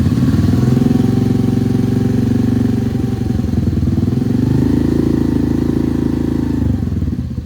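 Honda NAVI motorcycle engine, carburetor freshly tuned and fully warm, revving steadily at quarter throttle, a loud close droning note that dips briefly mid-way and then rises again, with no talking.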